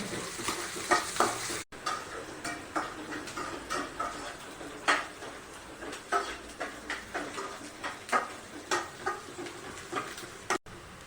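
Curry leaves and green chillies fry and sizzle steadily in a pan, with repeated stirring scrapes rising in rhythmic pulses, close and fairly loud.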